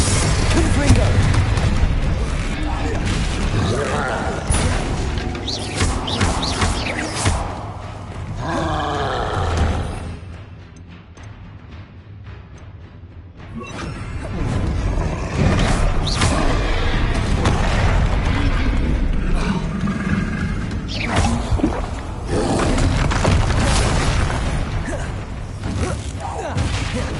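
Blasting spell explosions in Hogwarts Legacy, loud booming bursts and roaring blasts recurring through a chaotic fight, with a short quieter lull midway and spoken voices mixed in.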